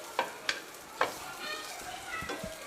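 Capsicum and tomatoes get stirred in a pan, three crisp spoon taps against the metal up front, then a quieter sizzle with a few low knocks.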